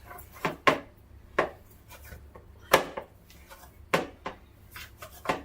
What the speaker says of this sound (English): I gotta chop some garlic, some onions, tomatoes, lettuce,